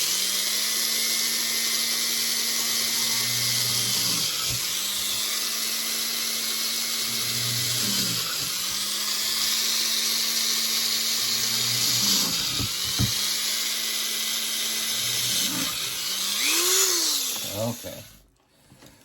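A power drill bores into a painted Hunchback of Notre Dame figure, a loud close whine that rises and dips in repeated strokes as the bit bites, ending with a final surge before cutting off.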